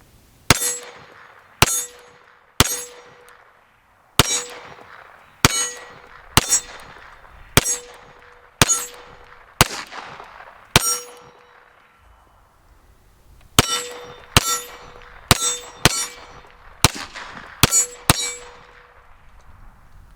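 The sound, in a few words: M&P FPC carbine gunshots ringing steel targets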